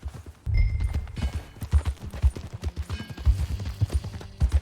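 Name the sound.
horse hooves clip-clopping, video game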